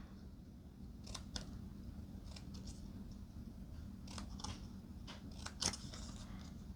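Scissors snip paper up to a score line while making a mini paper book, a series of quiet crisp cuts in short bursts over a faint background hiss, close and soft.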